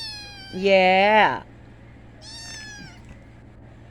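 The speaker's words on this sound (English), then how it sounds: "I've never had a cat talk so much than this little pretty baby." A talkative little kitten gives two meows: a long, loud, drawn-out cry first, then a shorter, softer one after a pause, with a brief spoken word in between against a low steady hum.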